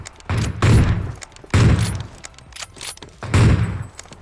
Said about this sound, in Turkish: Bir yerden bana sıkıyorlar